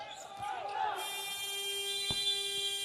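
A game buzzer at a basketball game sounds as a sustained tone against arena crowd noise, with a ball bouncing once and a commentator's voice nearby.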